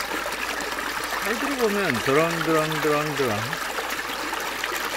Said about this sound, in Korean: 이게 바로 우리 처가 앞에 있는 그 도랑의 이 물소리인데요.